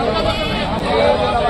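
Sheep bleating at a rural livestock market, white and red sheep penned together, loud and close with repeated overlapping bleats under steady crowd chatter.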